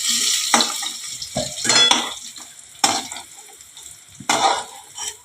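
Potatoes fry in a pan and are stirred, giving close, crackling sizzles in repeated bursts with scraping and clinking of a utensil against the pan, and no voices.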